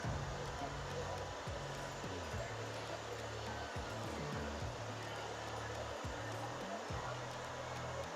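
A handheld hair dryer blows steadily and loudly while drying hair for a textured cut, a continuous airy roar with brief shifts in pitch as it moves around the head.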